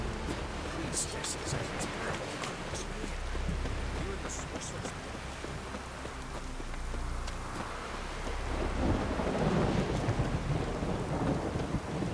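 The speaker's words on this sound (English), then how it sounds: "It's raining." A thunderstorm in the game Witcher 3: Wild Hunt brings steady rain hissing throughout with deep rolling thunder rumbling underneath, swelling louder near the end.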